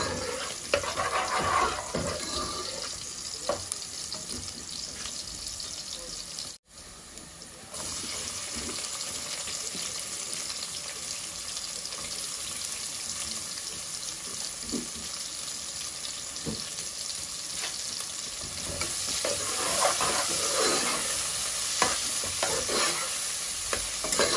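Homegrown tomatoes cooking in a pot for a Sylheti tomato khatta, a long steady sizzle and bubbling with occasional spoon scrapes, a brief dropout partway through, close and continuous without talk.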